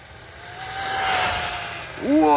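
An upgraded Typhon Grom RC car makes a fast speed pass, its whining motor swelling as it approaches, then a sharp rising whine close to the microphone at the end.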